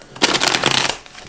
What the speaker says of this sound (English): Sorry, shuffle is a little bit loud.